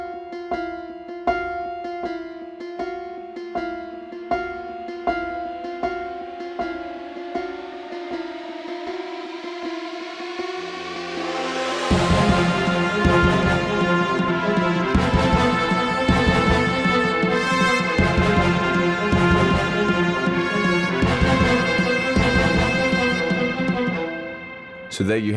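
Orchestral trailer arrangement built entirely in the Serum synth: a sparse, evenly spaced staccato cello pulse opens, then a thick, growling war brass section swells in halfway and holds loud and sustained, with no voices.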